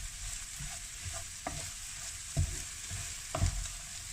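Vegetables stir-frying in a hot wok for a quick vegetable stir fry, with a steady sizzle and intermittent scraping, tossing clatters of the spatula against the pan, no talking.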